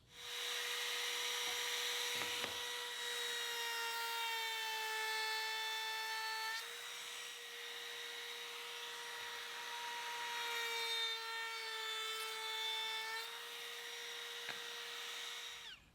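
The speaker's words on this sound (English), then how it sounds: "I'm going to use a chamfer bit in the router and add a small chamfer to the outside edge of the stiles." A router fitted with a chamfer bit trims a small chamfer along the outside edge of wooden stiles for a stand-up flower box planter, giving a steady, high-pitched motor whine that runs on without a break, alone and fairly close.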